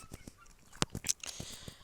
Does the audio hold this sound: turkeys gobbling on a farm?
yes